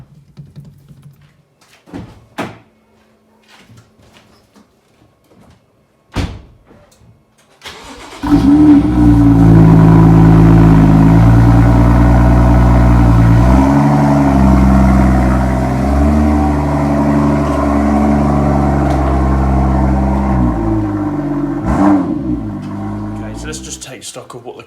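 A BMW M2 sits quiet at first, with a few sharp knocks and a door thud, then its engine starts and settles into a loud, steady idle that shifts in pitch as the car is pulled out.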